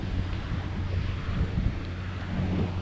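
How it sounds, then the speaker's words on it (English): Water laps softly around a sailing boat, with gusts of wind buffeting the microphone throughout. "We can listen to the water."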